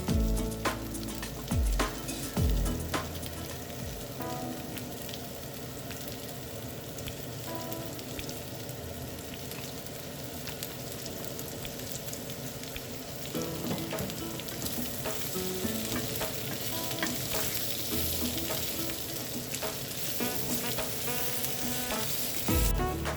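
Top sirloin steak fries in olive oil in a pan, a loud, close, continuous crackling sizzle with scattered pops and a few scraping clatters at the start.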